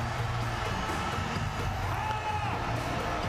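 Home crowd roaring at a basketball game in Tallinn's Unibet Arena, Estonia against Lithuania in a FIBA EuroBasket 2025 qualifier, a steady loud wash of cheering and shouting with commentary voices over it throughout.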